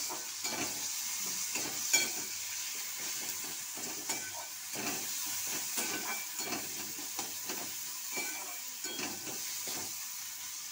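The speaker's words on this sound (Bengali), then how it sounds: "এইভাবে ভাজা হোক।" Finely chopped tomatoes fry in a pan for an egg curry, giving a soft steady sizzle with occasional stirring scrapes, fairly quiet and close with no talk.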